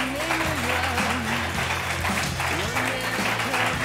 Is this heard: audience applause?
yes